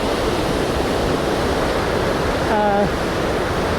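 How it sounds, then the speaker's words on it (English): Mill Creek water rushes steadily over and around big rocks in a shallow stretch, a continuous close broadband wash with a brief faint tonal sound near the end. "the rocks have blocked off the creek and made kind of a shallow"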